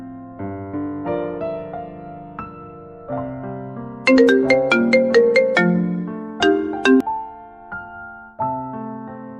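A bright, melodic phone ringtone plays clearly and continuously, its tune rising into a sparkling run of chimes before settling back down.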